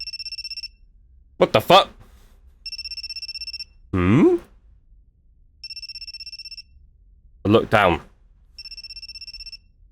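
A cell phone lying face down by a door rings inside the video game You And Me And Her, giving four short repeated ringtone bursts separated by pauses, with a man's speech breaking in between the rings.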